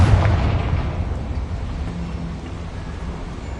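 A Confringo spell in the Hogwarts Legacy video game explodes with a heavy, booming blast that hits at once and then rumbles away over a few seconds, loud and close.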